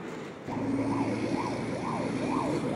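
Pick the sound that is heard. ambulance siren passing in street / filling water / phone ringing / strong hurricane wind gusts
ambulance siren passing in street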